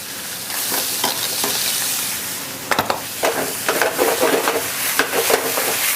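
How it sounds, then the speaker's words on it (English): Racks of lamb sizzle and fry in a hot pan, a steady loud crackle with sharper pops and stirring clatter in the second half. "they're braising up real nice"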